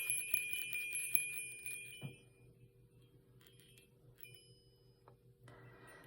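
A turquoise heart chime with a small dollar coin inside rings in a quick cluster of bright, shimmering metallic tones that fade into a long sustained ring, with a couple of fainter knocks later, close and alone.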